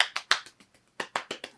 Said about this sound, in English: This is ours, a backwards hand clap.